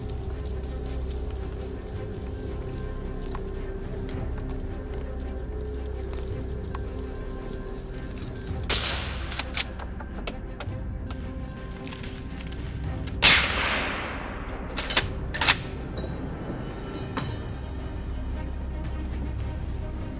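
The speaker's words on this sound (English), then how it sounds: "A shot cracked through the air" Rifle shots during a wild boar hunt: two sharp cracks spaced apart, each followed by several brief snaps, over a quiet, low outdoor background.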